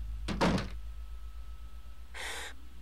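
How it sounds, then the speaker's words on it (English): A door opens in the horror video game Eternal Darkness: a short burst of creaking and shifting, then a quiet low rumble, and a second brief scraping swell near the end. No one speaks. "Open door."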